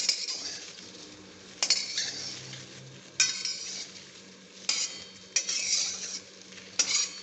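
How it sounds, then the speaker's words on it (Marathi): Sliced okra dry-roasting in a kadhai without oil, stirred with a metal spatula: a soft, continuous rustle punctuated by about six sharp scrapes and clinks against the pan. "बघा, अशी कोरडीच भेंडी परतायची."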